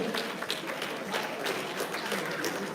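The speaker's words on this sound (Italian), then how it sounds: "Un applauso a Davis" A crowd applauds boxer Davis at a regional elite boxing tournament in Veneto, with steady, moderately distant clapping that lasts throughout.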